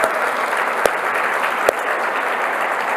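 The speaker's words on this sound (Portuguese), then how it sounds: "Uma salva de palmas" Congregation at a church celebration service giving a sustained round of applause, a full, even roar of many clapping hands with two sharp isolated claps standing out.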